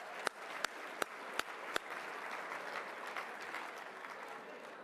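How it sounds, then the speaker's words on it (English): An audience applauds at the U.S. Hockey Hall of Fame induction celebration, a dense, even wash of clapping from a large crowd. A few sharp, loud claps ring out close by at the start, then fade into the steady applause. "give yourselves a round of applause"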